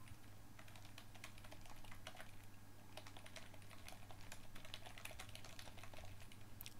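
Rapid computer keyboard typing clicks on continuously at low volume, a dense stream of keystrokes over a steady hum.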